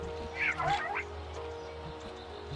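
A bird emote in the lighthouse video game Keeper gives a short duck-like quacking call near the start, followed by low ambient game background.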